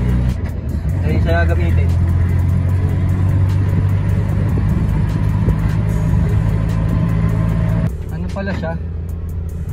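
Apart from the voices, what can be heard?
owner-type jeep engine running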